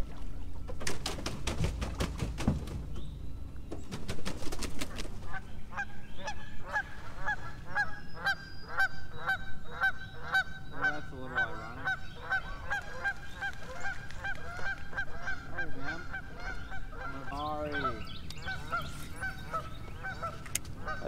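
Geese honk repeatedly near a goose nest by a duck blind on the James River, loud nasal calls in irregular bursts over about twenty seconds, with a few clattering and splashing sounds early on.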